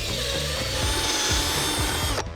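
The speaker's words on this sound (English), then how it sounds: "Next, we drill a hole with a large bit" A large bit bores a hole into a freshly debarked log outdoors in a snowy winter forest, giving a steady, loud grinding and rasping of wood with periodic low thumps from the tool, stopping abruptly near the end.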